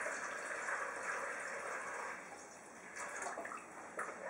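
Warm milk with melted butter pours steadily into a bowl of yeast for Lussebullar dough, a soft continuous splashing stream that runs for a few seconds close by.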